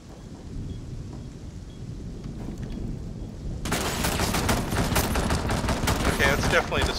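Gunfire in the tactical shooter Rainbow Six Siege: after a stretch of low, rumbling game noise, a sustained rapid stream of shots starts and keeps going, dense and steady under the other game sounds.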